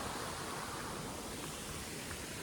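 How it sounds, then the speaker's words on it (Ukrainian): A mountain waterfall in the Carpathians gives off a steady, broad rushing roar, constant and even with no breaks, heard alone without voices. "Ходіть, подивимось на водоспад."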